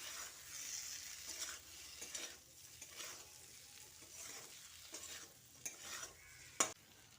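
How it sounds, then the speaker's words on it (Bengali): Pointed gourd and potatoes with spices are stirred in a sizzling pan, soft frying hiss punctuated by repeated scraping strokes of a spoon and one sharp clink of utensil on metal. "তারপর আবারও পটল ও আলুর সঙ্গে খুব ভালোভাবে মিশিয়ে নিচ্ছি"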